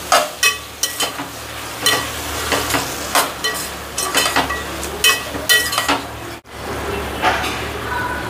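Vegetable biryani curry being stirred after yogurt is added, a spoon scraping the pot in a steady run of short strokes over a low background sizzle, close and clear.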